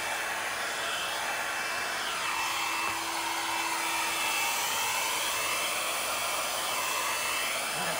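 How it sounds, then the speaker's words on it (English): Steady roar of a blow dryer running close up over an acrylic pour painting, its airy whine wavering slightly as it is moved around, with no talking. "Messed my center up with the blow dryer."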